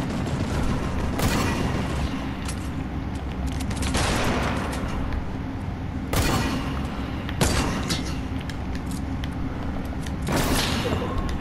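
Rapid exchanges of gunfire in Fortnite crackle steadily, punctuated by a few sharper, louder shots, with faint voices underneath.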